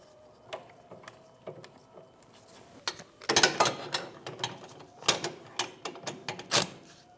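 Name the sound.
ratchet tightening brake caliper bracket bolts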